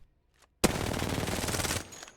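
Rapid automatic gunfire in Apex Legends bursts in after a brief quiet, a dense sustained volley lasting over a second before cutting off.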